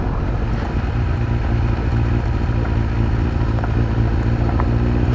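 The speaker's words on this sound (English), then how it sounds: "Taking a sport bike onto a dirt road." A sport bike rides onto a dirt road toward an old iron bridge. A close, loud engine drones steadily under heavy wind rush and occasional clattering, with no speech.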